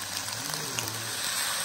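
Soy-sauce fried rice with seafood sizzling in a pan, a soft continuous wet hiss at low level, close and steady with no talk.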